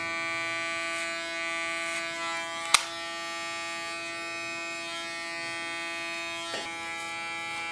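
An electric hair clipper buzzes with a steady, tonal hum during a short haircut, close and continuous, with a couple of sharp clicks as the blade is adjusted.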